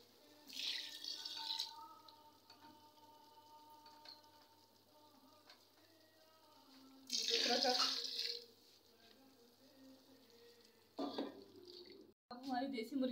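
Water splashes into a pot of frying desi chicken in a few short pours, separated by quieter stretches with faint kitchen clinks and a low hum.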